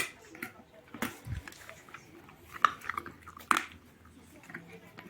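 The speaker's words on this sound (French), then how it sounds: "Bonne mastication les chiens." Dogs, including a miniature American shepherd, gnawing on natural chew treats up close, with soft wet crunches and scattered sharp bites, quiet and intermittent with an occasional voice nearby.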